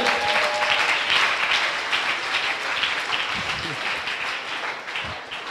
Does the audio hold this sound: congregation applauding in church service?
yes